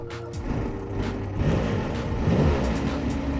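A Porsche 962 Le Mans race car engine, started on a key, runs with a deep, loud, rough, pulsing rumble up close, rising slightly in intensity with uneven low throbs.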